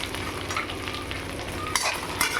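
Pre-fried potatoes get stirred into a Bengali fish curry with taro in a pan, giving a close, steady sizzle with soft scraping and a couple of sharper clinks of the spoon; no voices.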